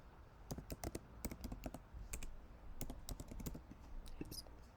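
Fingers type a name and password on a computer keyboard in quick, quiet bursts of close key clicks with short pauses between them.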